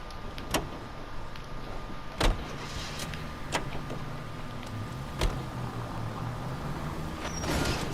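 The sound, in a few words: car driving in the video game L.A. Noire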